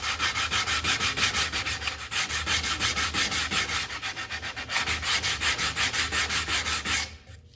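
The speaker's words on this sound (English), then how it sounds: "I want to sand this end grain until you don't see any scratches and you see nothing but the growth rings on this board" A sander works the end grain of an oak or ash cheese board in steady, rhythmic back-and-forth strokes. The abrasive rasp is close and continuous, then stops abruptly at the end.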